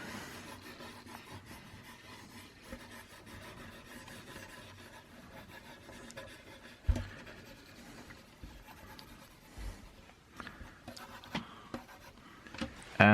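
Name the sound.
drawing and scribbling on paper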